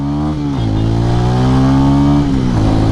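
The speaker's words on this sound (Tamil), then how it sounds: "exhaust note six thousand RPM cross பண்ணும்போது ஹெவியாக இருக்குது" A 200cc cruiser motorcycle's exhaust revs up from idle, holds a steady high note, then drops back and rises again, loud and close with no voices over it.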